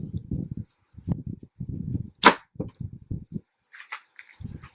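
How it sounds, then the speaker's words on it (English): A compound bow looses a heavy 655-grain arrow with a single sharp, bright snap and whoosh, loud and close. Low, muffled voice-like murmuring comes before and after the shot. "So I'm going to go ahead and shoot this 655 grain arrow again through."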